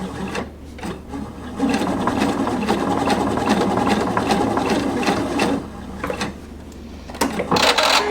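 Sewing machine running steadily, laying a row of long basting stitches slowly through garment fabric; a continuous mechanical whir with brief pauses, close and fairly loud.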